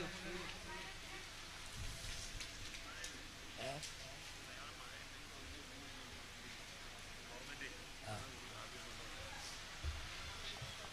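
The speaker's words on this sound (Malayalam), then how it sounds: "നല്ല കാറ്റും മഴയുണ്ട്" Wind and rain outside a gathering of women at a Kudumbashree meeting make a continuous soft hiss with scattered patter, while faint voices murmur underneath.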